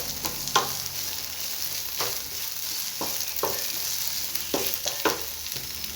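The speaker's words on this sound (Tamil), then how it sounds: "நல்லா கிண்டி வச்சுக்கோங்க." Okra and onions stirred in a frying pan give a steady, close sizzle, with a spatula scraping through it in several separate strokes over six seconds. No one speaks.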